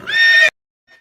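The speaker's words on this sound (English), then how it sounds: "I heard the horse." A horse gives a short, loud, bright whinny of about half a second, close and clear, followed by near silence and a faint trailing sound.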